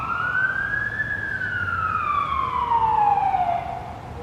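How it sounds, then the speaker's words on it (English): An ambulance siren passes by outdoors, one long wailing tone that climbs and then slowly falls in pitch. It sounds moderately distant, steady and fairly loud over faint background noise. "wait till the ambulance goes by"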